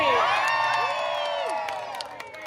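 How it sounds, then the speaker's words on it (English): A crowd on a fishing charter trip in Key West cheers and whoops loudly, the shouts tapering off over a couple of seconds, with a few scattered claps and hoots near the end. "Big cheer if I get it right."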